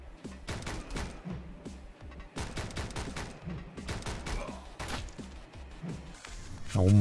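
Rapid gunfire in the video game Speed Limit, dense crackling bursts of shots nearly nonstop and fairly loud, mixed with game effects, under a player talking, with a louder tonal game sound at the end.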